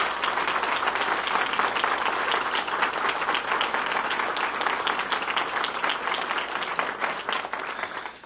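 Audience applause at a public address on pension and benefits reform, a dense, steady wash of many hands clapping at moderate loudness for about eight seconds, alone with no talk over it.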